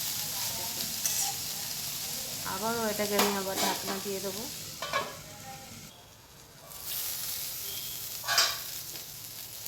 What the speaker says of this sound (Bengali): দেখুন কত সুন্দর ভাজাটা হচ্ছে